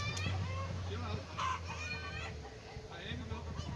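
Chickens cluck and a rooster crows close by over steady outdoor background noise, with a few brief calls rising above a low hum before fading.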